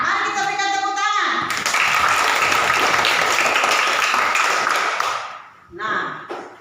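Classroom applause for a student group, bursting in after a voice and filling several seconds with dense clapping before stopping abruptly as speech resumes.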